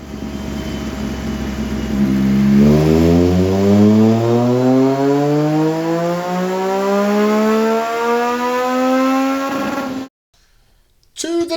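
A 2024 Yamaha MT-09 with a Leo Vince exhaust and ECU flash, revving up smoothly on the road for several seconds with a rising engine pitch, loud and close, then cutting off abruptly with a brief burst of noise after.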